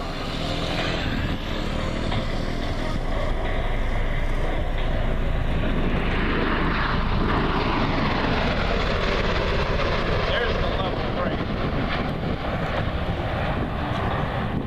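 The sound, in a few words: Bell Boeing V-22 Osprey tiltrotor aircraft flying at AirVenture airshow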